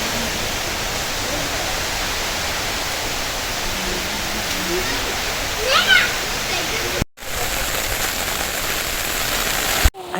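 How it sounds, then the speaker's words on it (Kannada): Heavy rain pouring down steadily outside a home in Mysore, a dense hiss that stays loud throughout with a short cut near the end. "ಫುಲ್ ಜೋರಾಗೆ ಮಳೆ ಬರ್ತಾಯಿತ್ತು"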